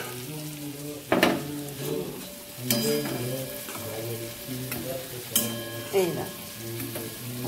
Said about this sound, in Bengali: ভাজা বড়া দুটো বানিয়ে নেবো গোবিন্দের জন্য